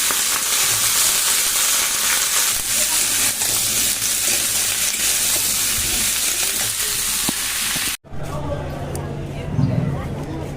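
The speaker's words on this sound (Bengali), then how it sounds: "একসঙ্গে ভেজে নিই।" Food frying in a pan at home, a continuous loud sizzle with stirring noises, with someone talking over it; the sound cuts briefly, then a quieter sizzle continues.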